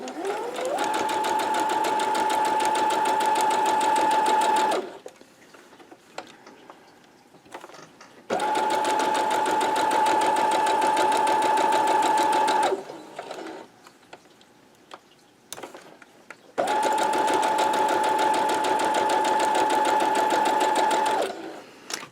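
Sewing machine running in three long bursts of steady stitching on quilt block pieces, each run lasting about four to five seconds, separated by quieter pauses with faint handling noise.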